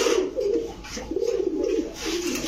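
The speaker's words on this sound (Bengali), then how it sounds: "অ্যাক্টিভ একটা কবুতর, মাশাআল্লাহ।" Several domestic pigeons at a pigeon shop coo in repeated throaty rolling phrases, close by and steady, with no talk over them.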